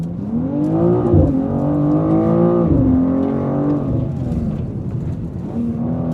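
A BMW M2 accelerates hard on a track, its engine note climbing through the revs with a brief dip at each gear change, loud and close from inside the car.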